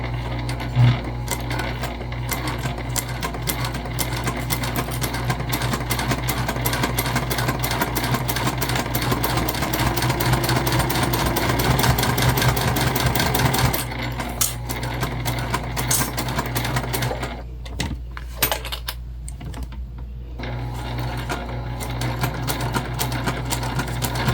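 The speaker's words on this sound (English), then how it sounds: "And we're just basting this in place right now" A sewing machine runs a long basting stitch across a travel sling bag, a continuous close mechanical whir for about fourteen seconds, then stopping and restarting in short bursts with small clicks.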